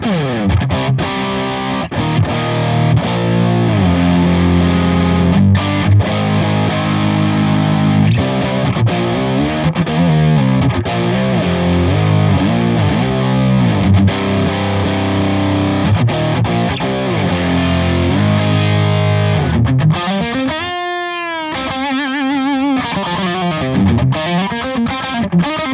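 Electric guitar played through a V4 amp and Quad Cortex, a heavily distorted, loud, continuous stream of chords and riffs with a brief squealing bend near the end.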